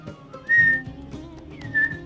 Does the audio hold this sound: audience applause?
no